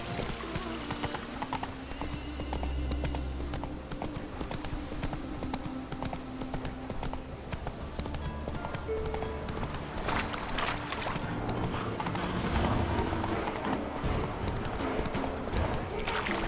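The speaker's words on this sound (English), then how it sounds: "Whoa there, Roach." Horse hooves clip-clopping in a rapid galloping rhythm in the video game The Witcher 3, steady and close throughout, with game music and ambience underneath.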